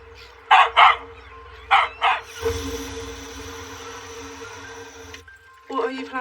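A dog barks in short bursts, a few sharp barks close by, then a steady mechanical hum takes over before one more bark at the end.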